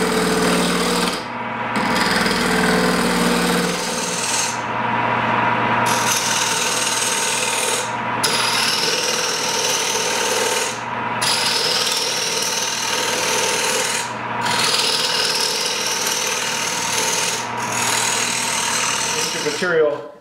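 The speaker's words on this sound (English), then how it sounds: "I'm gonna drill out a hole in each one of these. I'm using a 35 millimeter bit." A 35 millimeter bit bores a hole into wood, producing a loud, continuous grinding and chattering whir broken by short pauses every few seconds as the cut is eased off and resumed.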